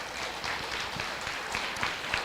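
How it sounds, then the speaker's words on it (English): Applause from a crowd at a county 4-H live event, a steady wash of scattered clapping throughout at moderate distance with no talk over it. "Let's give her a huge round of applause."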